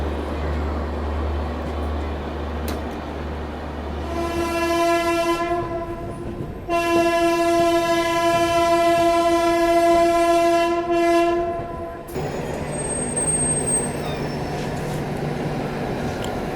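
A Bhagalpur to Anand Vihar special train running at speed with a long, loud two-part horn blast over steady rumbling, heard from on board with low wheel noise throughout.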